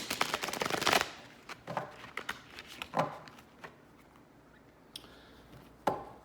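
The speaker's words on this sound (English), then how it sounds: "let's do a little more thorough shuffling" Tarot cards are riffled in a quick, crisp flurry, followed by scattered soft taps and flicks of handled cards, close and fairly quiet.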